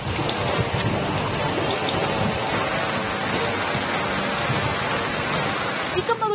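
Heavy monsoon rain pours nonstop in the Malnad hills of Chikkamagaluru, a loud, dense, unbroken roar of water hitting surfaces with no pauses.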